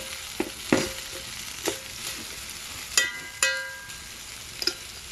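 Amla rice (pulihora) is stirred slowly in a pan with a spoon, giving scattered scraping and clinking strokes over a faint sizzle, the spoon striking the pan now and then.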